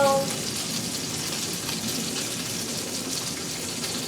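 Steady, even sizzling of steak searing in a hot pan, a constant hiss that holds at one level the whole time.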